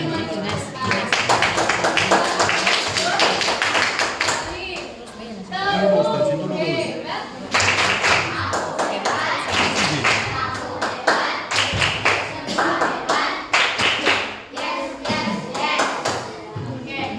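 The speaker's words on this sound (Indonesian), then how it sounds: "Beri tepuk tangan untuk teman-teman" A class of schoolchildren applauds their classmates, with bursts of rapid, crowded hand clapping and thumps alternating with children chattering and a teacher talking in a lively classroom.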